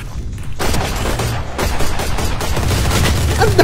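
Rapid gunfire from the tactical shooter Valorant, loud bursts of shots cracking close and continuous through the whole stretch, dense and unbroken.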